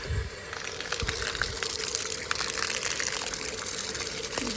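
Water gushing and splashing as feet are rinsed at a beach shower in Foça, Izmir. A steady, close rush of running water pours throughout, with small uneven splashes and knocks on top.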